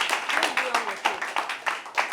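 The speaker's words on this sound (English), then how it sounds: "A round of applause for Temiloluwa" An audience at a school debate in Lagos claps for a student, the bursts of applause coming in uneven waves while someone speaks over them.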